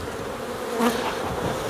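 Steady buzzing of many dark honeybees close by around an open hive, a dense insect hum with no voices.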